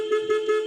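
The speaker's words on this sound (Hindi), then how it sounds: "और ये हॉर्न पे लगा रहे हैं ठुमके।" A vehicle horn honks in three quick rhythmic toots, loud and close, during a night drive through the Jim Corbett jungle.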